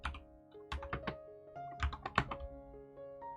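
Typing on a computer keyboard while writing a Python print line, with irregular clusters of sharp key clicks and a few heavier thunks, close and clear with no talking.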